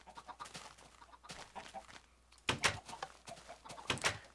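Chickens in the video game Minecraft cluck in several short, sharp bursts, with the loudest calls grouped toward the end over a quiet backdrop.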